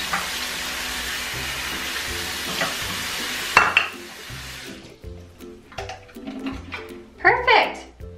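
Humidifier parts being rinsed in a bowl of water: a steady rush of running water, then sloshing and splashing in bursts with a clunk as the flow stops, and talking heard in the later part.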